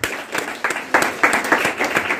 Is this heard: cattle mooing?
no